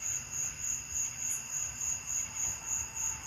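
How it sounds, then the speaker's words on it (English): Crickets chirp at night during a lightning storm, a steady high-pitched trill pulsing in an even rhythm roughly three times a second, moderately close and alone with no talk. "With the cricket bugs."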